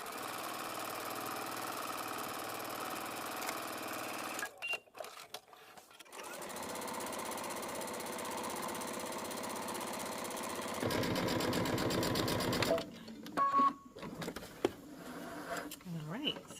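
A home sewing machine runs gathering stitches on a dress, a steady mechanical whir that stops and restarts, with pauses and handling noises between bursts.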